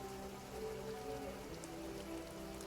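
Steady rain patters on surfaces during a sun shower in the video game Path to Nowhere, a continuous even hiss of drops with no voices.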